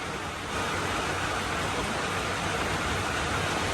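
Rain falls steadily in a dense, even hiss after a brief softer opening, close and constant, with no one speaking.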